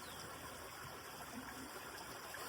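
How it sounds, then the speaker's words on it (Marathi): Steady rushing water flows nearby in a Konkan village setting, a continuous even wash of sound with a faint mechanical hum beneath, no voices. "कसलं मस्त पाण्याचा आवाज येतोय एकदम कडक"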